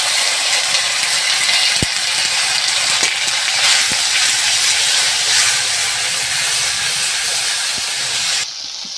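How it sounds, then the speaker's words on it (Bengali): Bay leaves, whole cumin, hing, tomato, green chili and ginger sizzle loudly in hot oil, a steady dense hiss lasting throughout with a few sharp pops and crackles, easing slightly at the very end. "তেলের মধ্যে দুটো তেজপাতা দিয়ে দিলাম কিছুটা গোটা জিরে আমি তেলের উপর দিয়ে দিলাম"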